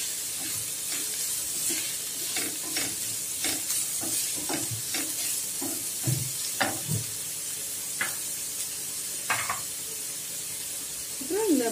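Coriander and curry leaves frying in a hot pan for Tamil suliam, a steady sizzle broken by repeated scraping stirs of the spoon against the pan, close and clear with no talk.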